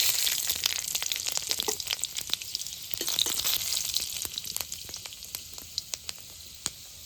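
Dried red chilies and five-spice seeds sizzle in hot mustard oil, a steady bright frying hiss with scattered sharp crackles and pops that thin out toward the end, no voices.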